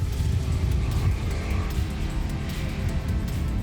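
Mercedes-Benz race cars battle closely on a circuit in a historic motor racing event, a steady loud engine roar droning throughout with no talking.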